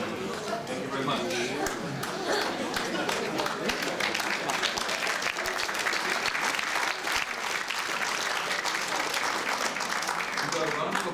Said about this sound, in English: You got a round of applause just by showing.